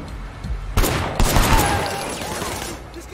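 Gunfire in Sleeping Dogs, heard as a few loud, close shots in quick succession. Each has a broad, booming crack, and the last is followed by a lingering rumble and debris-like rattle that fades out.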